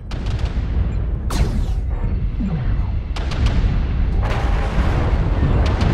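Incoming missiles explode in the MechWarrior Online battle around a Hunchback IIC mech, with a steady roar of loud, rumbling blasts and sharp crackling impacts rolling over one another in dense, continuous combat noise.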